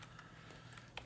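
Fingers type a few quick, light keystrokes on a Polaroid wireless computer keyboard, faint clicks with a slightly sharper tap near the end.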